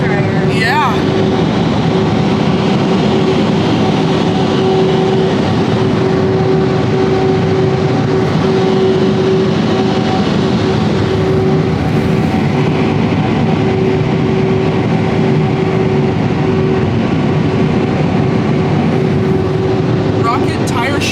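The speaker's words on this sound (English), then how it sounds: "Double blower nozzle. Wow, look at these. Look at all these blow dryers." Car wash tunnel blow dryers with a double blower nozzle at an express car wash in South Jordan, Utah: a loud, constant roaring air rush with a steady tonal whine, heard from inside the tunnel.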